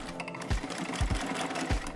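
A sewing machine slowly stitches a seam through twelve layers of sailcloth and muslin, steady whirring with heavy thumps of the needle roughly every half second, close and alone.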